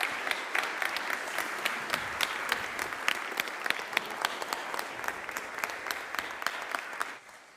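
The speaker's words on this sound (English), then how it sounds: "could we just give him a well-deserved round of applause" Audience applause after a presentation at an evening science-and-faith talk: a full room clapping steadily and continuously for several seconds, then tapering off at the end.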